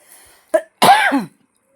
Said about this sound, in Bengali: রাস্তা দিয়ে যাচ্ছি প্রচণ্ড কাশি হচ্ছে আমার